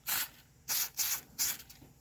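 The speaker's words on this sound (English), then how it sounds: "Now I'll spray the foam disc with some Cayenne air filter oil." Cayenne air filter oil is sprayed onto the foam filter disc of a Dewalt DXCM601 air compressor in four short, close hissing bursts with brief gaps between them, and no voices are heard.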